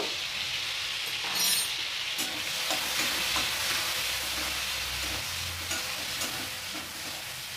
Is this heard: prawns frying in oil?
yes